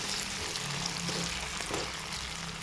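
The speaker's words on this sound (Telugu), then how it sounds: "ఇప్పుడు పొటాటోస్ని హై ఫ్లేమ్లోనే ఫ్రై చేసుకోవాలండి" Potatoes frying in a pan over a high flame, giving a steady broadband sizzle that holds evenly throughout, close and continuous with no talking.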